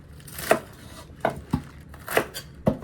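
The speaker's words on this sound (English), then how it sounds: "Next, I'll chop up this scallion, about 40 cents." A kitchen knife chops a scallion on a cutting board, giving five or six separate, crisp knocks spaced irregularly, close up and with no talking.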